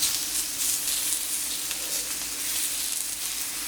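Grilled prawn skewers sizzle on a hot plancha, a steady, fairly close hiss and crackle that holds evenly throughout with no voices.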